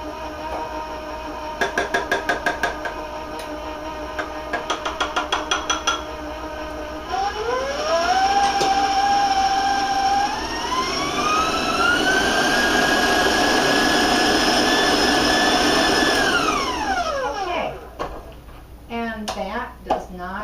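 Electric stand mixer with a paddle attachment runs through peanut butter raisin cookie dough, its steady motor whine rising in pitch as it speeds up, then dropping away, after some brief clicking at the start.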